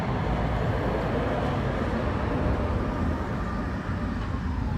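A Prague tram passes outside amid city traffic, producing a steady broadband roar with a faint high rail squeal. It stays loud and continuous throughout.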